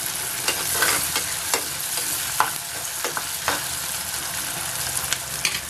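Tomatoes cooking in a clay pot for a fish curry, with a steady close sizzle and scattered scraping clicks of stirring throughout, no voices.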